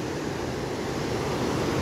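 A stream swollen into a flood by continuous rain rushes past a mountain village, giving a loud, steady, broadband roar with no break or voices.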